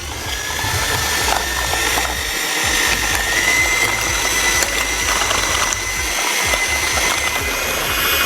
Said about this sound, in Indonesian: Kita kocok bersama gula dengan kecepatan yang stabil ya, sampai dia mengembang.